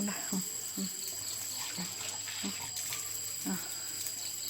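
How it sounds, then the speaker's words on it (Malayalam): Water streams steadily from an opened tap, a constant close hiss with faint rhythmic knocks and clinks repeating beneath it. "പൈപ്പ് തുറന്നു കൊടുക്കാൻ അവയ്ക്ക് വെള്ളം കുടിക്കണം"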